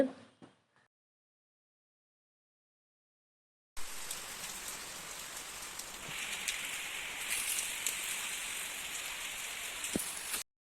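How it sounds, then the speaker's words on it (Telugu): Heavy rain falls outside a balcony, a dense, steady hiss of drops after a few seconds of silence, constant and close with occasional louder splashes, no speech. "బాగా వర్షం పడింది అసలు ఎంత పెద్ద వర్షం పడిందంటే ఇంకా ఇప్పటికి కూడా పడుతూనే ఉంది"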